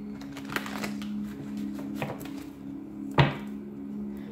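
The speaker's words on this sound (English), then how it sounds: "Last shuffle." Tarot cards being shuffled by hand: a series of soft papery riffles and taps over a faint steady hum, ending with a sharper slap of the deck being squared, close and fairly quiet.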